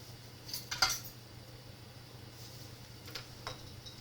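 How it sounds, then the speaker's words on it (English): A spoon scoops homemade banana ketchup from a container, giving a few quiet clinks and scrapes, loudest early on, with a couple of light taps later over a low background hum. "I'm going to take a scoop of it out with a spoon"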